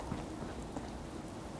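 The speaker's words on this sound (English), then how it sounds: "it's raining, perfect." Steady rain falls in Fallout 4, a soft continuous hiss of drops on surfaces with no distinct events, moderately quiet throughout.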